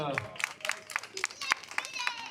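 Scattered clapping from an audience at a town ceremony for the Violet festival's ambassador, sharp separate claps in an uneven rhythm, fairly faint and mixed with a hum of crowd noise.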